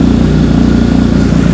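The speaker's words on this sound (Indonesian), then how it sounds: "Tadi ternyata khasnya motor mesin boxer ya." BMW R 1250 GS boxer-engine motorcycle idling just after a cold start, a loud, steady low throb with an even pulsing rhythm, close by with no talk over it.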